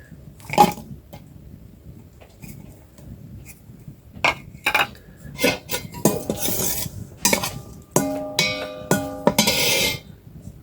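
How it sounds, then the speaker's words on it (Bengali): Asafoetida and garlic being fried in soybean oil while a utensil scrapes and stirs the pan, with repeated metallic clinks and knocks of cutlery against cookware; no voices. "সয়াবিন তেল দিয়ে আগে হিং রসুনটারে ভাজেন"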